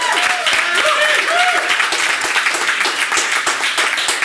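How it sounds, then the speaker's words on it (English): Audience at a fundraiser event giving a short burst of loud applause, many hands clapping steadily with some voices and cheers underneath. "So just a quick round of applause for Michelle."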